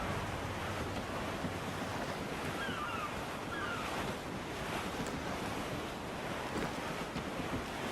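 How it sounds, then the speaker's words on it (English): Strong wind and rolling ocean surf aboard a schooner in Assassin's Creed 4, a loud, steady roar of gusts and breaking water with faint creaks, continuous throughout with no speech. "There's a strong wind now."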